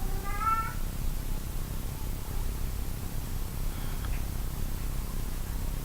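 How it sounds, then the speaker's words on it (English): A cat gives a short, clear meow right at the start, then falls quiet over a steady hiss of background noise with a faint tone later on. "Ah, kitty, kitty."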